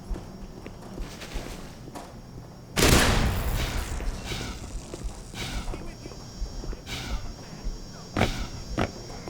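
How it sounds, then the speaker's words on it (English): Automated turret in the Black Mesa video game opening fire, a sudden loud burst of rapid gunfire followed by scattered shots and impacts over game ambience, with a person talking intermittently. "did I just wake the turret up?"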